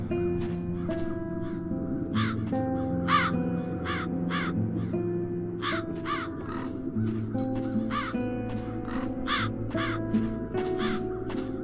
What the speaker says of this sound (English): Now those ghastly crows only need to touch it.